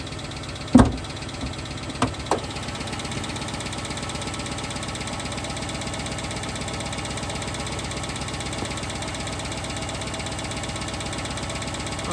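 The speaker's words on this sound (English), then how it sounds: "Let's see what this knocking's about." A car engine idles steadily with a faint rhythmic knock running through it, close and continuous, with a couple of sharp clunks near the start; a car that would not start and was jumped.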